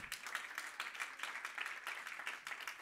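A church congregation claps along during a sermon, a steady rhythmic patter of many hands that stays fairly faint and distant throughout.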